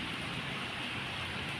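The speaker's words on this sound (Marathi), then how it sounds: "रिपरिप रिपरिप पडतोय" Light unseasonal rain falls steadily near Solapur, Maharashtra, making a soft, even hiss with no break and no voices.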